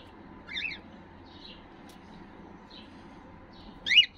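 Caged budgerigars, both pied and lutino pairs, give a few brief chirps near the start and end, set against a faint, steady low hum.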